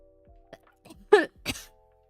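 A person coughs a couple of times at close range after laughing, short rough bursts standing alone against a quiet room.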